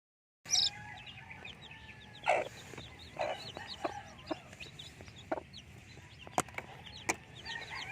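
Newly hatched native Rhode Island Red chicks, fresh from eggs set under a brooding hen, peep and cheep in scattered high chirps throughout, close by, with a few louder bursts and faint background noise.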